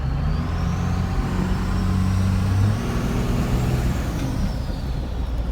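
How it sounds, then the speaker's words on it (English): A first-gen 12-valve Cummins diesel with an HX35-based turbo, Steed Speed T3 manifold and pusher intake, droning loud and close with a steady engine rumble and a rising, then falling turbo whistle. "Still a little small turbo noise for you guys that haven't heard this badass pusher intake with this Turbo Lab of America turbo or built turbo"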